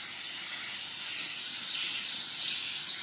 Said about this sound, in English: I'm just going to put a little bit of spray base on there